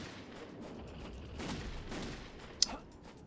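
Gunfire aimed at skeletons in Castlevania Legacy of Darkness, with a few faint muffled shots and one sharp crack standing out over a soft, noisy game background.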